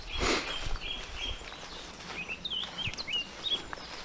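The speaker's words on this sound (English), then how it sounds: "there's a blackcap over to the right across the load" Distant warbling song of a blackcap, short fluty phrases repeating over a soft outdoor fen hiss, with faint rustling and a few light thumps nearby.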